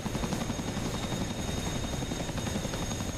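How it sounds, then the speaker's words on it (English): A Chinook helicopter passes overhead, a dense continuous rotor roar with a faint rapid chop that stays loud and steady throughout, with no voices. "There's the Chinook."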